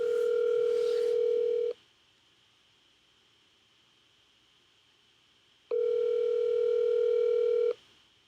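A telephone call to a Texas number, with a steady electronic ringback tone sounding in two long bursts separated by a few seconds of quiet, clear and close, with no talking.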